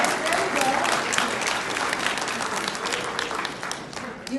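Audience applause at a nursing transition-to-care ceremony, a full, even wash of clapping that slowly tapers toward the end.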